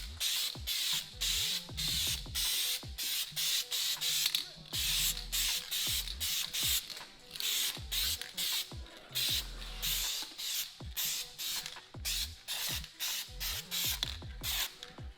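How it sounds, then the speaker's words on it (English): A cheap can of white spray paint hisses in rapid short bursts, dusted over a Toyota Supra engine bay part, each spray close and loud with brief pauses between passes. "get some cheap can of white paint and then dust this on."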